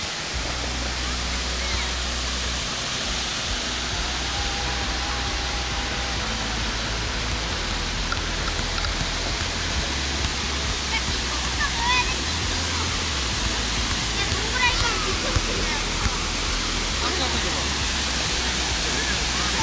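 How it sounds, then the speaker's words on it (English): Steady roaring rush of a waterfall in a nature park in Anyang, Korea, broad and continuous throughout, with a low rumble underneath and faint voices mixed in. "Do you like this waterfall?"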